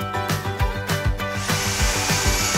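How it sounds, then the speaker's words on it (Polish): A power drill spins a corn cob skewered on its bit, with rhythmic whirring pulses that rise into a steady high-pitched whine partway through, loud and close, with no talking. "Nabij kukurydzę na wiertarkę."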